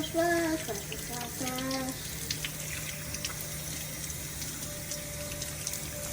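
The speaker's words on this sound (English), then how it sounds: "I'm gonna wash my hands with some soap. Turn it on. Wash." A tap runs steadily while hands are washed with soap at a sink, a continuous water rush with faint squeaky tones at the start and light splashing throughout.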